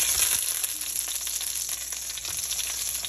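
Eggs fry in mustard oil with a dense, continuous, close sizzle and crackle that stays loud and even throughout, with no talking.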